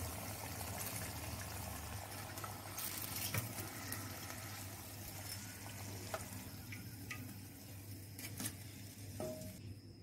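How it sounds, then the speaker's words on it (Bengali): Paneer pieces frying in hot oil until golden brown, a steady close sizzle with faint crackles and occasional stirring clicks, continuous throughout. "বাকি পনিরের পিসগুলো গোল্ডেন ব্রাউন করে ভেজে নেব।"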